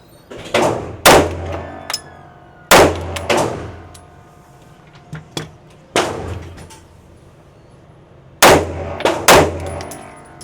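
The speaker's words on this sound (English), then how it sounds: "I was supposed to take that shot a little slower" Sharp pistol shots from a Kimber 2K11 Comp ring out on a range in uneven clusters of two or three, each loud crack followed by a short ringing tail, with quiet pauses between strings.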